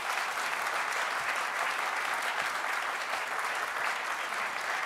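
Audience applause at a recovery event at the White House, a dense, sustained roar of many hands clapping at constant loudness with no speech over it.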